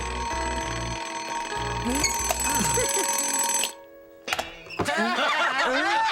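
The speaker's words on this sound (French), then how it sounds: "Cette sonnerie semble provenir de la salle de cours." A shrill electric classroom bell rings continuously for several seconds, then cuts off, followed by a brief pause and lively voices.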